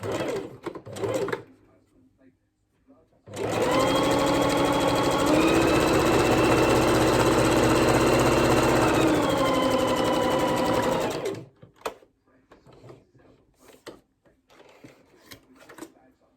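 A sewing machine runs in one long steady burst, stitching triangular fabric body pieces right sides together down their full length, with its pitch rising partway through; brief quiet stretches and faint handling noises come before and after.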